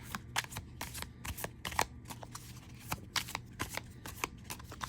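Rapid riffling bursts of a tarot deck being side shuffled by hand, close and crisp, repeating in quick irregular clusters with no talking.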